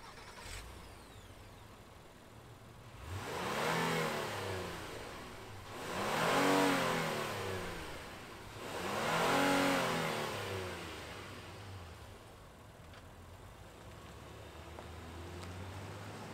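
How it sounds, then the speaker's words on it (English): A 2022 Honda Passport Trailsport SUV engine cranks and starts, then revs three times in slow, swelling bursts before settling back to a low idle, fairly close. "let's fire up the Trailsport and hear what it sounds like"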